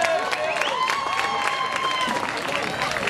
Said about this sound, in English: Let's give a big round of applause for Stanley Yusevitz from Verizon